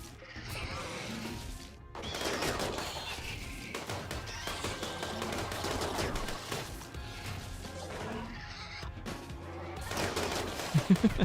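Chaotic RimWorld combat with colonists fighting Scythers: repeated sharp gunshot bursts and crashing impacts spread through the stretch, mid-loud and dense, with a few louder hits closing it out.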